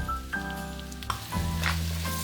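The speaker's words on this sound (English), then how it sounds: "We're adding our carrots. This is about 12 baby carrots and 2 stalks of celery." Baby carrots and celery stalks hit a hot pan and sizzle loudly, a steady crackling fry that continues throughout with a faint tonal hum underneath.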